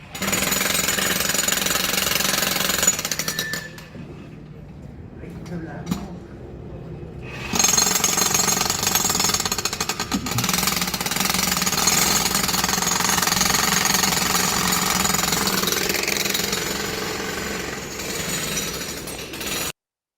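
Construction work during patient care hammers on with a loud jackhammer-like rattle, broken by a few seconds of quieter gaps with faint knocks before resuming steadily, no speech heard.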